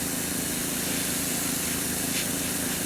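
An airbrush sprays Badger Stynylrez primer, giving a steady, close, fairly loud hiss that runs unbroken throughout with no talking.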